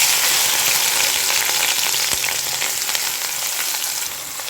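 Chopped pirandai (adamant creeper) frying in hot oil for pickle, a loud steady sizzle that fades slightly toward the end, no voices.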